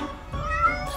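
A kitten in the video game Everything Rots gives a single short, clear meow, close and alone.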